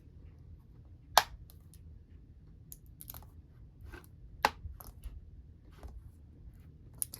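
Laptop keycaps on a Dell Latitude 7400 being pressed into the keyboard frame, giving a few sharp, close plastic snaps spaced apart over a quiet background, with fainter small clicks between them.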